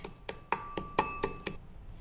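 Spices pounded coarsely by hand in a mortar, giving seven evenly spaced sharp knocks with a ringing, clinking edge, close and fairly quiet, with no talk.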